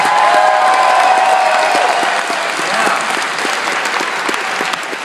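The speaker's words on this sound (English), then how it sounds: "Give her some applause to encourage her." Large audience applauding with some cheering at a live evening event with an actor, a loud, steady wash of clapping that eases slightly partway through, with a brief voice heard.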